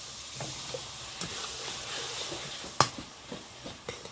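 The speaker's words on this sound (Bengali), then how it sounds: "কাঁচা লঙ্কা, জিরে গুঁড়ো দিয়ে দিলাম একটু, দিয়ে মশলাটাকে ভালো করে কষিয়ে নেব" Masala with green chili and cumin powder frying in a pan, giving a soft steady sizzle close by with a few clinks of a stirring spoon and one sharp knock.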